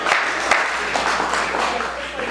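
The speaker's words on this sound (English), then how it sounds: "I'm gonna give y'all a round of applause." An audience at a live stand-up comedy show applauds, a brief wash of clapping with a few sharper claps standing out in the first half.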